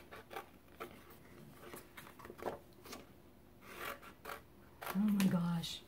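Scissors snip through craft material in short, separate cuts with a few rustles between them, followed by a louder handling noise near the end, all quiet and close.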